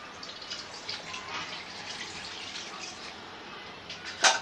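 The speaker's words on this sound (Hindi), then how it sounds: "मैं इसमें 2 गिलास पानी ऐड कर रही हूँ।" Water is poured into a pot of paya curry, two glasses of it, a soft continuous splashing trickle heard close up at low volume, ending with a brief sharper splash.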